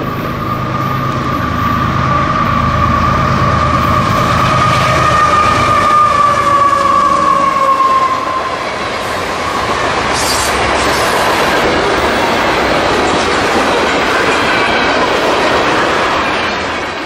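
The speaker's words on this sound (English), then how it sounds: "down came M453, daily freight service out of Waycross, Georgia" A daily freight train, M453 out of Waycross, Georgia, passes through the Wildwood depot headed for Miami, with a loud, steady rail rumble, wheel clatter and drawn-out squealing tones that fade and then swell again.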